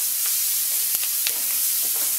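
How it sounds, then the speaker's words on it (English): Onions sauté over medium heat in a pan, giving a soft, steady sizzle with a few faint clicks from stirring, close by and without talk. "So she's just gonna saute those onions."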